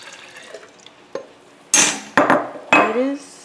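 Liquid drink, a home remedy for constipation, is poured into a Nutribullet blender cup in a kitchen; after faint handling clicks, three loud splashing bursts of pouring follow close up, with no talking.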